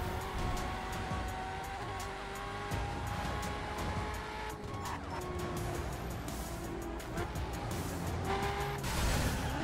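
Racing car in the driving game The Crew, high-speed engine drone with tire squeals and skidding throughout, a few crunchy impacts from a crash, loud and continuous with no talk.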